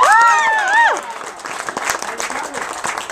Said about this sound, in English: Give Autumn a big round of applause